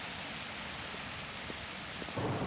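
Rain in the video game Dead Frontier 2: a dense, steady downpour hisses across the whole moment, and a low rumble of thunder swells near the end.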